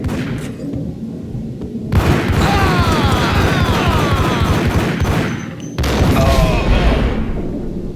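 Dense video game gunfire in Max Payne, a sustained volley of shots with booming impacts that fills most of the stretch, briefly cutting out near the middle before resuming loud and continuous.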